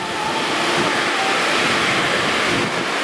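Hurricane-force wind from a cyclone in Gelendzhik, a Black Sea coastal town: a loud, continuous, broadband roar that stays steady throughout, with possible surf mixed in.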